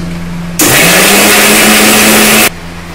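A mixer grinder whirs loudly as it grinds spice paste with a little water for green banana chops. The motor starts abruptly, runs in one steady roaring burst of about two seconds, then cuts off, leaving a faint low hum.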